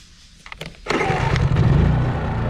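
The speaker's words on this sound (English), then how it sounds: "Start the generator." A generator engine at a log home construction site turns over after a few brief cranking rattles. It catches and settles into a loud, steady motor drone close by.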